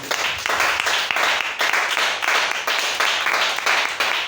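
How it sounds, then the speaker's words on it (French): A church audience applauds loudly at a French-speaking gathering, with sustained clapping in repeated waves and no talk over it. "Acclamez très fort encore."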